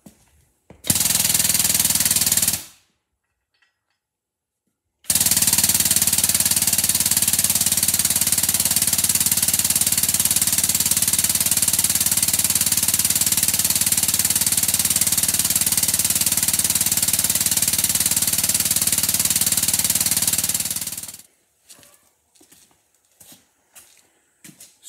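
A hydraulic tube bender bends a golf cart roll cage hoop with a loud, steady mechanical drone, a brief burst first, then a pause and a long continuous run of about sixteen seconds before stopping, followed by a few clanks.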